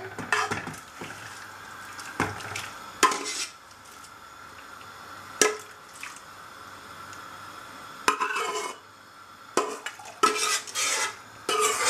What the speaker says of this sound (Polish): Dorzucamy warzywka, które wcześniej już zostały starte.